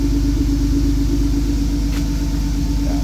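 A steady, deep engine rumble at idle from a car with a GTR exhaust and external wastegate, loud and close, holding an even drone throughout with no talking.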